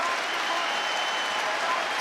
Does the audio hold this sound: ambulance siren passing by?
no